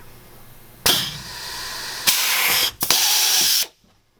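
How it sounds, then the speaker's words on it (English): Rib nut tool setting a rib nut during interior wall framing, with loud hissing, whirring bursts that start abruptly, pause briefly, and run again before cutting off into near silence. "you're ready to set your next rib nut"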